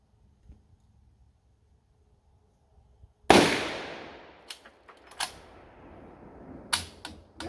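Gunshots from a bolt-action AR rifle built as a Han Solo blaster: one loud, sharp crack after a quiet start, followed by several quicker sharp reports, close and loud outdoors.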